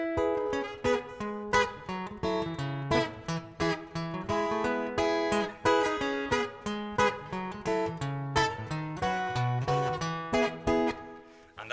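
A guitar arrangement keeps one chord going off the beat, with plucked notes and strummed chords landing in a steady, syncopated rhythm. The playing is moderately quiet and there is no talking.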